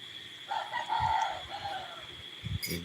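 A rooster crows once at a distance, a drawn-out wavering call rising and falling, faint under a low background hum and some nearby thumps.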